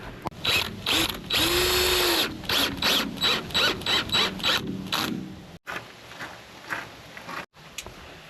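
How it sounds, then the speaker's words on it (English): Drill driving screws through a shutter bracket into masonry, with a sustained whirring run followed by a series of short rhythmic ratcheting pulses, loud and close, then quieter intermittent handling. "again I'm going to use those rock screws"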